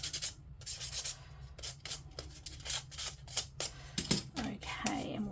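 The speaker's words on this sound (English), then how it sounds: "this is just a fine sandpaper. So we're just going to sand that off." Fine sandpaper scuffs a flat claw clip in rapid back-and-forth strokes, close and dry with short rhythmic rasps and brief pauses between bursts.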